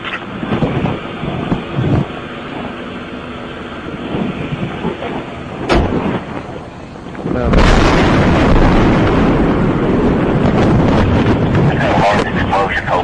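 A propylene tank car explodes after a train derailment, first picked up as a loud, sharp crack, then a sudden, heavy roaring blast with deep rumble and wind buffeting that continues for several seconds, with voices heard earlier.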